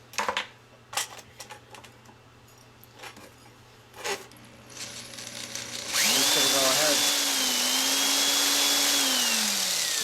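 A power tool whines steadily as it smooths the end of a new balisong tang pin, its pitch sliding slightly, preceded by a few scattered knocks and handling clicks before the motor starts.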